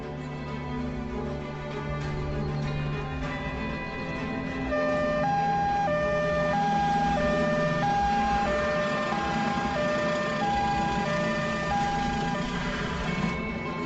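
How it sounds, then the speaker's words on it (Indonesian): An ambulance siren sounds with sustained, alternating electronic tones that grow slightly louder partway through, heard alone without any talking. "Ambulans."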